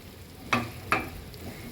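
Oats and vegetable stuffing cooks in a pan on a gas stove, giving a faint, steady sizzle with two short louder scrapes of stirring, and no talk.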